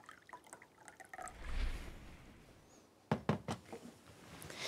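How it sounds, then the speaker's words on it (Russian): About 75 ml of cold filtered water is poured into a mixing bowl for dough. It makes a faint, quiet trickle with scattered drips and small splashes, then a few sharper drips near the end. "Выливаю в миску, где я буду замешивать тесто."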